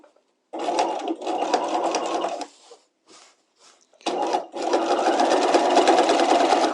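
Sewing machine stitching a boning casing on a structured bodice lining, two loud steady whirring runs near the mic separated by a pause with a few short stitch bursts.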